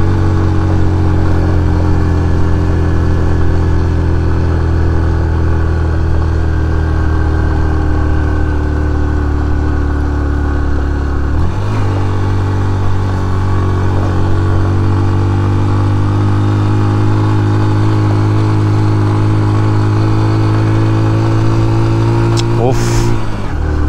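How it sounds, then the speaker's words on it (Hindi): Motorcycle engine labouring up a steep mountain road in first gear on the route from Skardu to Deosai, a steady loud drone that drops in pitch midway as revs change, heard close throughout with voices talking over it. "स्टीप चढ़ाई है यार, फर्स्ट गियर में आ गई थी बाइक।"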